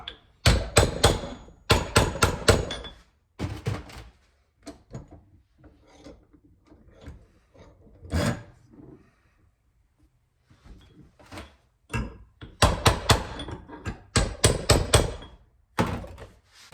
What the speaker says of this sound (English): I'm just using the vise and to hold it while I just hit it with this blunt chisel